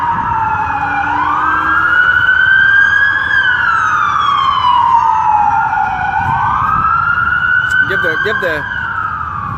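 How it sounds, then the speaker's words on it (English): Several emergency vehicle sirens wail loudly while passing along a street outside a Las Vegas federal courthouse, pitches sweeping up and down continuously, with brief talk near the end. "There's a lot of sirens here."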